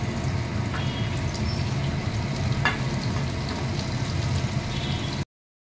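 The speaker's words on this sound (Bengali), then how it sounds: "এই যে ক্যাপসিকামটা ভাজা হয়ে গেছে, ওটা আমি তুলে নেব।" Capsicum fries in hot oil in a home kitchen, a steady, moderately soft sizzle and crackle that runs evenly for several seconds with occasional small spatters, no voices over it, then stops abruptly.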